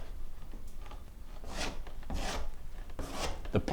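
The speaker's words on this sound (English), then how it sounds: "take just a simple household comb, fine tooth, wide tooth. I prefer wide tooth, and you're just going to scrape it across" A wide-tooth household comb is dragged across fresh interior wall paint to build a crosshatch texture, giving three short, raspy scraping strokes spaced about a second apart at close range.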